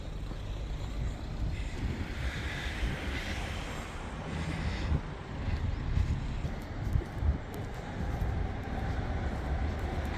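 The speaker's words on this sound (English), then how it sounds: "I just saw the train go past." A low, steady rumble of a train passing near a clifftop beach mixed with gusting wind, continuous for several seconds at a moderate distance.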